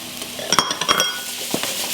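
Pearl and red onions fry in butter in a pan, a soft sizzle broken by a few sharp clinks and scrapes from stirring, close and without voices.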